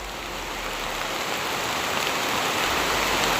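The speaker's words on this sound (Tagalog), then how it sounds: "Lumalakas na yung ulan." Heavy rain pours steadily over farmland, a dense continuous hiss that grows slightly louder and stronger over a few seconds, with no voices.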